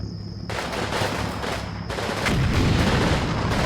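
Gunfire in the Berlin 1945 battle game Combat Mission Fire and Rubble, rapid machine-gun bursts crackling densely and loudly without pause, growing heavier toward the end.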